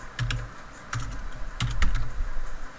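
Keys clatter on a computer keyboard in short bursts of rapid typing, close and clear over a low background hum, while a company name is entered into a quote form.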